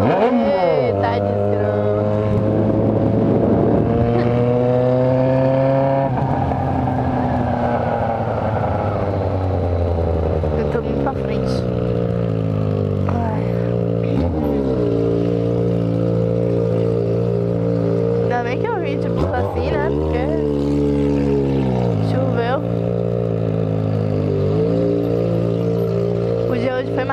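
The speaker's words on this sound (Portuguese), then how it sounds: "é hoje que eu tenho que dar uma volta nessa moto" A Yamaha XJ6 motorcycle engine drones steadily on a ride through city streets, its pitch climbing and falling as the rider shifts gears and changes speed, with a voice talking over it.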